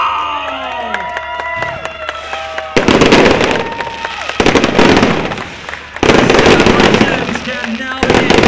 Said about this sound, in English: Our junior drivers getting treated to a firework crackers over the circuit.